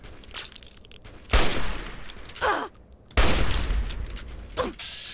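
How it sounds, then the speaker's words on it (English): Gunfire in Fallout 3: two loud sustained bursts of shooting, joined by a few shorter shots and clanking mechanical noises, all close and harsh. "Who's shooting?"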